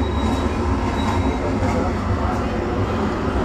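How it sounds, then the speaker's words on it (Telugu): A subway-train sound effect plays at a New York venue, a loud, continuous rumble of an arriving train with faint wheel squeals above it. "సబ్వే లాగా ట్రైన్ వస్తున్నట్టు"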